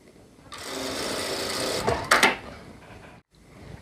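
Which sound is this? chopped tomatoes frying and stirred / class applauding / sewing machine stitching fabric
sewing machine stitching fabric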